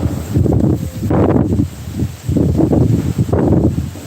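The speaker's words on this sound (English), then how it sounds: "I'm just waiting for the wind because it's really windy, guys." Strong gusts buffet a microphone outdoors on a very windy day, coming in heavy, roaring low bursts that swell and drop in uneven waves, loud and close.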